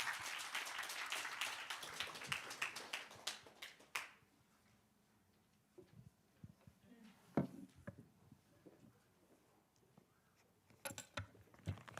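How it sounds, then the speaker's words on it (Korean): A church congregation claps loudly for several seconds to welcome a pastor, then the clapping stops, leaving faint taps and scattered handling noises before a few final claps. "자, 환영하며 맞이하겠습니다. 박수로."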